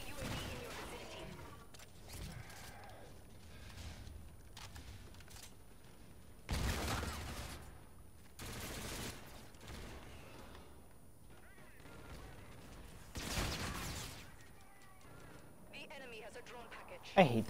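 Gunshots ring out during a Call of Duty-style multiplayer match, scattered bursts and single cracks with a few louder volleys, heard under game announcer voices and talk.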